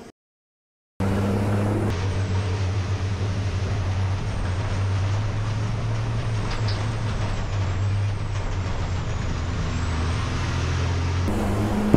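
A racing truck in the Lion Truck Racing team at the Nogaro circuit, 2023, blasting through grass at speed, a loud sustained engine drone with rattling, buffeting cabin noise heard from inside, steady throughout after an abrupt start.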